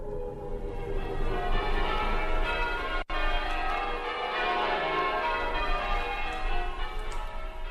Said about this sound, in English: As the bells rang out on that last day of the old century